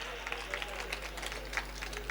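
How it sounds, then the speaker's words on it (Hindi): An audience at a kavi sammelan poetry gathering in Bhilwara claps in a light scattered patter, heard faintly from a distance under a steady background hum. "एक बार अपने लिए जोर से तालियां बजाइए।"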